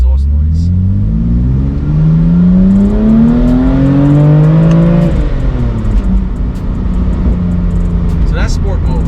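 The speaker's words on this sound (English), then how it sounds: "and I'm still getting my nice exhaust noise" A BMW M4 with a titanium exhaust in sport mode accelerates, its intake and exhaust rising in a loud, deep, climbing engine note, then easing off, with speech over the sound.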